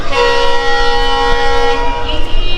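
Loud, close train noise at Baihata station as the Siphung Express passes or idles, a steady rumbling drone with a sustained horn tone layered over it.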